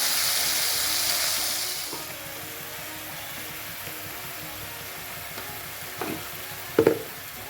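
Oil heating in a pan in a home kitchen, with spices ground on a grinding stone nearby: a loud, steady sizzling hiss for about two seconds that fades to a faint hiss, followed by a few soft knocks.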